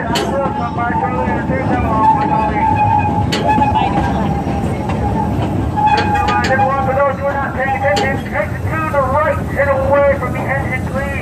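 Omaha's Henry Doorly Zoo railroad train rolls along with a steady rumble and squealing wheel tones, while a voice speaks over the train noise throughout.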